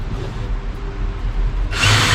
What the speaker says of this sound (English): We're going to use our drill to go through as a pilot.